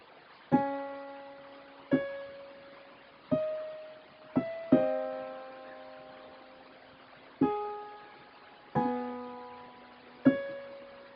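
Organ notes and chords from a song, played slowly and one at a time. Each struck note rings out clear and tonal with a decay, separated by short gaps, and no one speaks over them.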